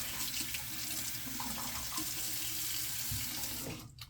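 Tap water gushes steadily for rinsing after a travel shave, a loud, even rushing stream that holds for nearly four seconds before cutting off abruptly.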